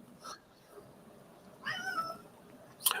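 A domestic cat meows twice, faint and somewhat distant, a short call early and a longer one later, over quiet room noise in cold weather.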